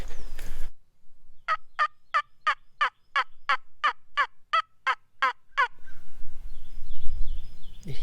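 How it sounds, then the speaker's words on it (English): A wild turkey gobbles during spring hunting season in Tennessee hill country: a crisp series of about fourteen evenly spaced call notes, clear and moderately near, in an otherwise quiet field. "Did he gobble when I started?"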